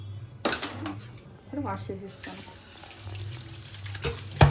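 Tap water runs at a kitchen sink while fish pieces are rinsed, with splashing and clinks against a bowl, close by, with a voice talking over it.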